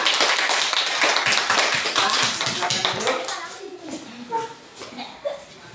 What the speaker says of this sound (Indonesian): beri tepuk tangan untuk teman kita semua